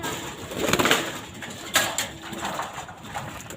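A pigeon on a loft roof gives soft, low cooing calls, mixed with light rustling and a couple of thuds nearby.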